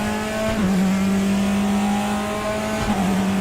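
Praga race car engine in the RaceRoo racing game, droning loud and steady at high revs with two brief dips where the pitch drops and climbs again, heard alone and close.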